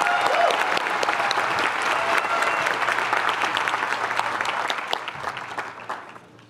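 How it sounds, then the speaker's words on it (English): Sustained audience applause at an architecture school commencement ceremony, a dense steady wash of many hands clapping that fades slightly toward the end, with faint voices mixed in. "Please join me in giving them one more round of applause to congratulate these students."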